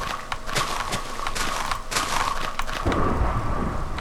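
Thunder rumbling through a rainstorm in the Minecraft video game, a steady low roll beneath constant rain hiss that swells toward the end, fairly loud with no speech over it.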